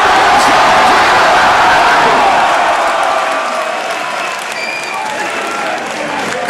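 Crowd at a live metal concert in Kulttuuritalo, loud, dense applause and cheering that fills the hall, with whoops scattered through it and a slight easing toward the end.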